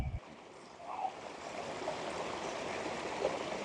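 A small creek in a tiny trout stream flows with steady, rushing water that forms a continuous close wash, with no voices heard.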